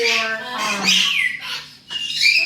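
Loud, close Cape parrot squawks and harsh screeches in bursts, shrill and piercing, with a short pause before another raucous call.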